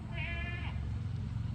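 One goat gives a single wavering bleat close by at a farm, with a steady low background hum and no talking.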